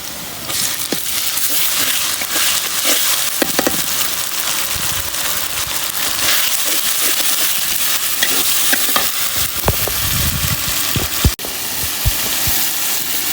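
Onion softened in hot oil with ginger and garlic paste sizzles loudly and steadily, broken by repeated scraping stirs and clinks of a spoon against the pan, with no talking.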